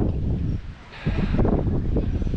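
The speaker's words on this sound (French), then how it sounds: "il y a légèrement du vent" Light wind blowing outdoors in the hilltop village of Saint-Paul-de-Vence, a steady low rushing with a brighter gust partway through, fairly close and constant with no one talking.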